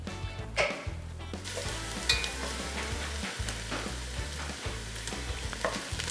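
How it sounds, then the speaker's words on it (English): Onions sautéing in oil in a pan give a steady sizzle throughout, with occasional utensil taps and stirring scrapes layered over it and a low background hum, no talk. "adding your onions, and sautéing them until they're golden"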